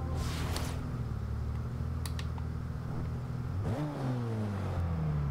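A 2012 Lamborghini Aventador LP700-4 in the Forza Horizon 2 racing game, its engine droning at a steady pitch and then surging into a rising rev, with a brief rattling click partway through.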